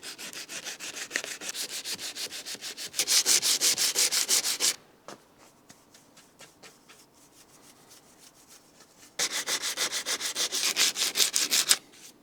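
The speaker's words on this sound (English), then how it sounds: "sand it down." Sandpaper scrapes back and forth by hand in quick rhythmic strokes across cured body filler on a rusted rear side window frame of a Mercedes-Benz S123 300TD, in two loud bursts separated by quieter, lighter rubbing.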